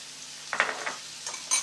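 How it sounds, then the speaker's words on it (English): A spoon stirring tomato ketchup and white wine vinegar in a bowl for a sweet and sour sauce, a few soft scraping clinks and swishes, close and quiet. "Just give that a little stir now."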